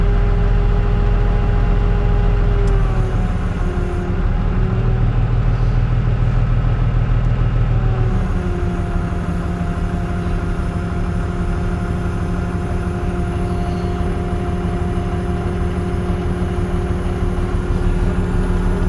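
Farm tractor engine running steadily and loud while a sprayer boom unfolds, with a drop in pitch partway through and continuous machine drone and hydraulic whine throughout, no talking.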